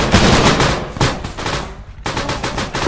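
Gunfire in the Call of Duty video game rattles in dense, loud automatic bursts, a sustained volley broken by a brief lull before firing resumes.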